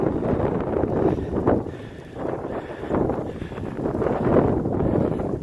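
Heavy, gusting wind on a snowy winter mountain hike in the Grayson Highlands, a continuous rough roar buffeting the microphone and swelling and easing in waves for several seconds, with no voices.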